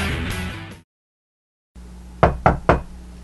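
Three sharp, evenly spaced knocks on a door ring out close and loud near the end, following a brief snippet of music and a moment of silence, with no voices.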